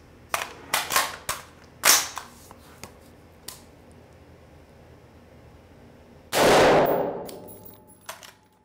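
Hornady Frontier 55 grain FMJ rounds fired into ballistic gelatin, several sharp cracking shots spaced apart early on, then one louder, longer blast with a decaying tail, no talk.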